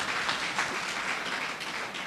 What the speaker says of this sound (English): Please kindly give a round of applause to Terra Foundation.